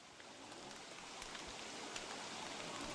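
Rain in the game Don't Starve falls as a soft, continuous hiss with faint scattered drops, steady and quiet throughout.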